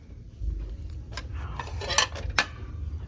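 Royal Stafford pheasant-pattern ceramic dishes in a home goods store give a few sharp, bright clinks and taps, quiet and scattered over low store hum.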